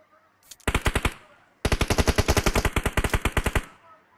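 Automatic gunfire in PUBG on the Sanhok map: a short burst of about six rapid shots, a brief pause, then a longer sustained volley of around twenty loud, evenly spaced rounds.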